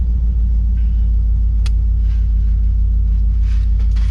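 A 1994 Camaro engine with a CC503 cam idles while warming up, a steady low rumble, close and constant, with a faint click partway through and no talking.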